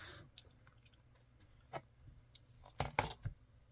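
Paper is cut for a journal card in a few faint, sparse snips and crisp rustles, with quiet handling noise between them in a still room.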